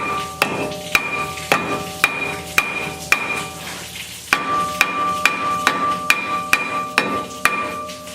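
Heavy hammer blows ring out on a seized, 20-year-old Mazda Miata brake rotor in a steady rhythm, about fifteen sharp clanging strikes with a short pause partway through.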